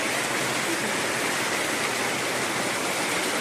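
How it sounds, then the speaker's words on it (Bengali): Heavy midday rain pours down in a continuous, dense hiss and roar that stays loud and even throughout, with no voices over it. "প্রচন্ড বৃষ্টি হচ্ছে।"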